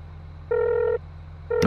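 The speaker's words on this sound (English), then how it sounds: "Oh, hang on, the phone's ringing." A telephone rings inside the Farming Simulator video game, a steady electronic tone lasting about half a second, then a second ring cut off by another noise, over a low engine hum.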